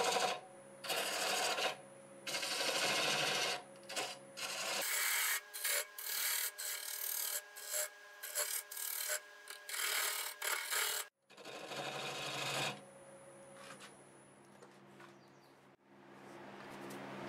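Rough scraping and rasping of a turning tool shaping a tenon on spinning wood on a lathe, in long continuous bursts with short pauses, fairly close and loud.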